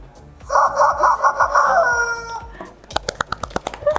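A rooster crows loudly and close by in one long, drawn-out call, followed by a series of sharp, rhythmic clucks or knocks.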